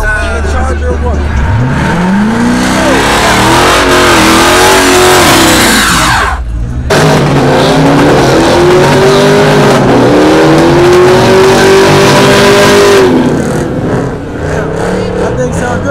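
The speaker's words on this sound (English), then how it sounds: "That thing sound good. That's a hell of a burnout he got right there." A car engine revs hard during a burnout, its pitch climbing and sweeping up and down in loud, sustained bursts with a brief drop partway through, while people talk nearby.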